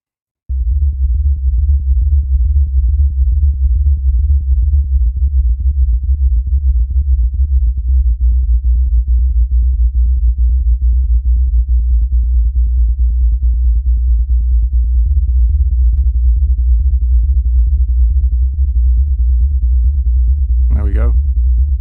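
A techno synthesizer patch with a short, immediate attack, programmed in Ableton, holds a loud, steady low bass tone with a fast pulsing texture for about twenty seconds, ending in a brief higher chirp.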